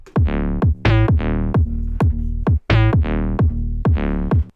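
A loud UK garage beat where a punchy kick thumps steadily and the sidechained sustained bass and synth ducks and swells back after each hit, giving a pumping rhythm.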